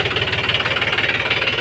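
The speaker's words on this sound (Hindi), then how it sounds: "शानदार ट्रैक्टर है, आवाज़ देखिए ट्रैक्टर की।" A new Mahindra 265 tractor engine runs close by, a steady throbbing idle with a fast, even knocking pulse and no voices over it.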